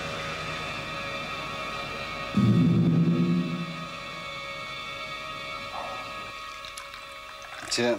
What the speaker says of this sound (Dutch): ik zou dat zelf moeten inschenken.